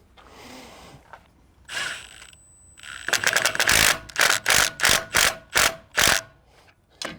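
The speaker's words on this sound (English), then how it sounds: "It's to tighten these bolts up. I'm using an impact." An impact wrench fitted with a 5/8 socket drives bolts on a boat step installation, starting with a few brief bursts and then firing a rapid series of sharp, loud hammering rattles, close up with short pauses between them.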